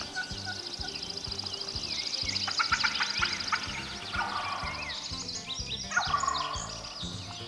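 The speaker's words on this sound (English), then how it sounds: "We were hearing all kinds of vocalizations from hens, multiple gobblers" Wild turkeys in the woods, several gobblers and hens calling: a steady run of high yelps and chirps with occasional louder gobbling bursts near the middle and end, over a low rhythmic thumping background and no talk.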